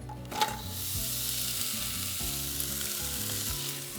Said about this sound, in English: this just goes into a dry, hot frying pan